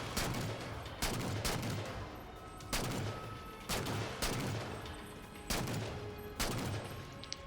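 Repeated bursts of gunfire in the video game Halo Spartan Ops, Legendary solo, firing into an area: six loud volleys spaced roughly a second apart over steady battle din, no talk.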